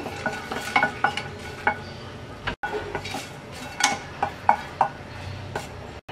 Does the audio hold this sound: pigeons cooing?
no